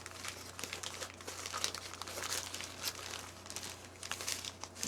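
Continuous crinkling and rustling of craft paper being unwrapped, close up, with irregular crackles and small tears throughout and no talking.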